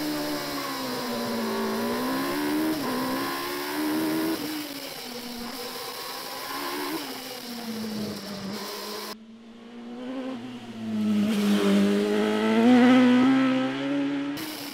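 A race car on a hill climb run howls through gear changes, rising and falling in pitch as it accelerates hard, loud and close, with no talking.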